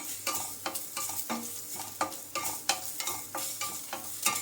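Curry leaves crackle into fried chilies in hot oil, a steady close sizzle broken by repeated scraping stirs at a regular pace, with no voices.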